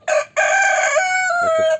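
A Gurk Indian rooster crows close by, one short note, a brief gap, then a long, loud drawn-out call that tapers at the end.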